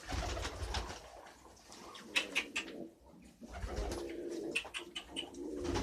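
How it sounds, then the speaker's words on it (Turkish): Pigeons cooing in a loft, with soft repeated coos, some chirps and rustling close by, fairly quiet and continuous. "Şimdi bende güvercin var."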